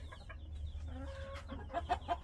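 A hen clucks close by in a short series of soft, throaty notes on a farm, with several quick calls bunching together near the end.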